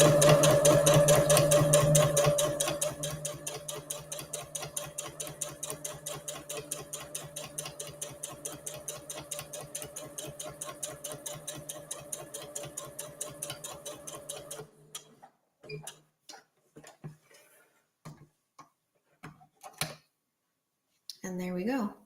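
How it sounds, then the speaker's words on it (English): A sewing machine top-stitches a fabric gift bag with variegated thread, running fast and steady for about fifteen seconds, then slowing into separate stitches and short bursts before stopping and restarting. "aligning the edge of my foot with the edge of my fabric for my last line of top stitching"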